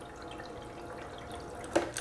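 Water washing steadily over a Royal Manufacturing gold dust concentrating table, a soft continuous wash and trickle with a brief louder splash near the end, no talk.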